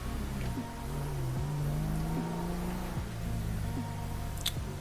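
A small car cruising calmly in GTA 5, its engine droning steadily at close range with gentle shifts in pitch and no voices over it.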